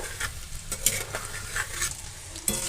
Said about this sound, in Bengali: এগুলোকেও আমি ওইভাবেই গোল্ডেন কালার করে এটা ভেজে নেব